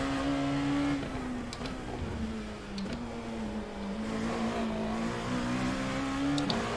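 Dallara P217 LMP2 race car lapping in iRacing, its engine holding a steady, humming drone that dips and rises slightly as it shifts and brakes, heard continuously at moderate volume.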